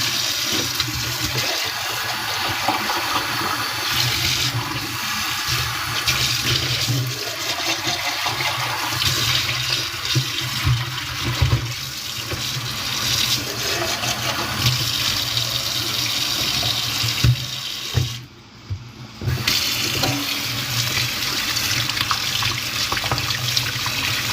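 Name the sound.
water running while rinsing food in a strainer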